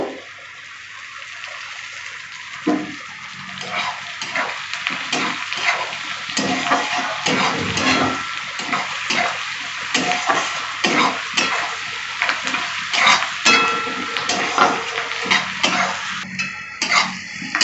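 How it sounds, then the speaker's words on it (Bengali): Onions frying in a pan for a Bengali goat tripe chachchari, a steady sizzle running throughout with frequent stirring scrapes and clinks of a utensil against the pan, close and fairly loud. "পেঁয়াজটা লাল লাল করে ভাজবো"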